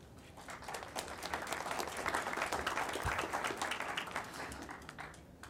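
An audience at an expo applauds the county warden, a steady wash of many hands clapping at moderate distance, fairly soft and continuous for several seconds.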